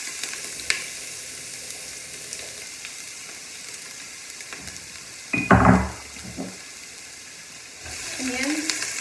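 Garlic fries in olive oil in a pan with a low, steady sizzle, a few utensil clinks and a louder burst of stirring midway, with a person speaking briefly near the end.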